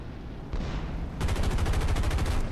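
Rapid automatic gunfire from a P-47M fighter's machine guns in War Thunder simulator battles, a short loud burst followed by a longer sustained rattling volley, with no talk.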